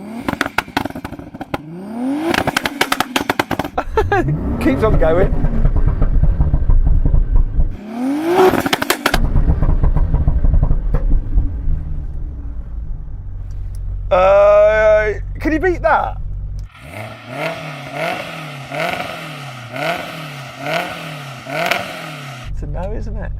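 Tuned drag cars, a 700-horsepower Supra, an RX-7 race car and a Porsche 911 Carrera T, rev hard at a sound check. Loud engine notes rise and fall repeatedly, with crackles and pops, while people talk over them.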